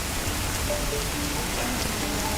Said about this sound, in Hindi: क्योंकि जिस तरीके से बारिश हो रही है इन इलाकों में